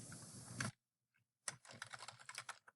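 Typing on a computer keyboard while working in a word processor: a short burst of key clicks, a pause with one or two faint taps, then a quick run of close, crisp keystrokes.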